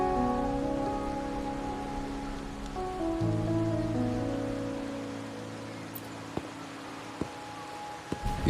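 Rain falls steadily in the video game Wuthering Waves, a constant soft hiss of drops on surfaces under sustained musical tones, with a few sharp ticks near the end and no talking.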